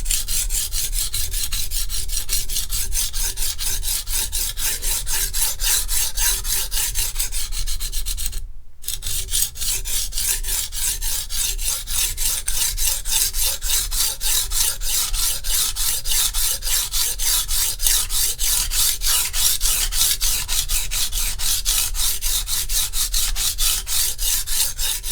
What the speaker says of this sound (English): I'm gonna start by grinding away at the edge, pulling away the chips and the nicks on the edge